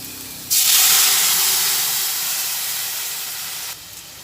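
Pressure-cooked masoor lentil dal is poured into a hot pan of spices. It erupts into a loud, steady hiss of sizzling steam that fades slightly over about three seconds, then cuts to a quieter simmer, with no voices.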